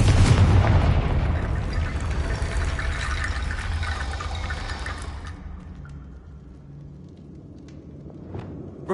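A Confringo spell blast in Hogwarts Legacy, one heavy booming burst at the start that decays into a long rumbling, crackling tail and fades to near quiet, loud and close.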